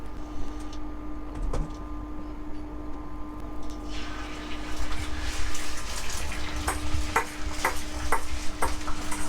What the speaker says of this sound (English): when you fry it, it's called scrambled egg